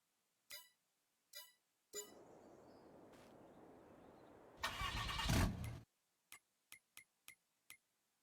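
A truck in Farming Simulator 22 starts up: a few mechanical clicks and clunks, an engine crank and rumble swelling into a loud burst that cuts off, then a quick string of sharp dings.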